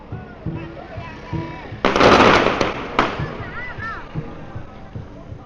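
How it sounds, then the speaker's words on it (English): Distant fireworks burst over an outdoor street near a dragon boat event in China, a loud crackling volley followed by a second sharp bang, with someone talking quietly amid background bustle. "we've got more fireworks about to be let go."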